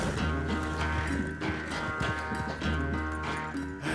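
Horse hooves clip-clop in a steady rhythm in Red Dead Redemption 2, riding close under a sustained musical score without talk.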